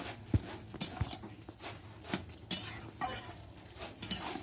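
A pot of boiled taro (kachu) is lifted off the stove, with repeated metallic clanks and knocks of pot and utensils at irregular intervals, close and fairly loud over faint background noise.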